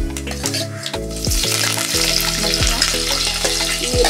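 Chili and garlic sizzle loudly as they hit hot oil in a pan over a traditional wood-fired chulha stove while cooking jackfruit vegetable, a steady close crackle.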